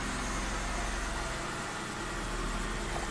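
A Hyundai with a P0320 fault and a dead tachometer runs at a steady, even idle close by, a continuous engine hum with no voices.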